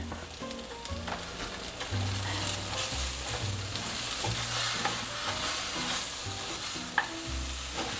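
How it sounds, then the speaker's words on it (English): Long-sliced onions sautéing with taro root in a hot pan, a continuous loud sizzle with repeated scraping strokes of a spoon stirring, close up and without speech. "now I have long sliced onions, and I'll add those into it."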